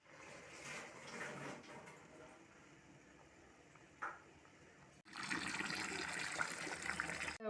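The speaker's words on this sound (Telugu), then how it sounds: "ఇప్పుడు స్టవ్ ఆఫ్ చేసి ఈ నీళ్ళు వంచుకోవాలి." Water poured off boiled bitter gourds in a home kitchen, a faint splashing pour that grows into a louder, steady rush of draining liquid near the end.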